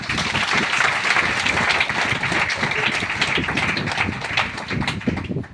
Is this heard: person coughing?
no